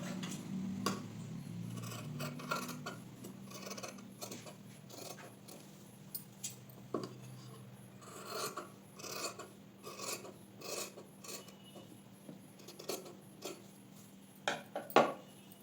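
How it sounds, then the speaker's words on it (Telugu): Scissors trim extra blouse cloth close up, giving a long run of small, crisp snips and rasping cuts in an irregular rhythm against a quiet background. "ఈ ఎక్స్ట్రా క్లాత్ని ఇలా కట్ చేసుకున్నాం"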